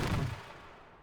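A short designed explosion effect built from layered swooshes: a loud initial burst with a low-end thump that quickly decays into a fading rumbling tail, heard alone.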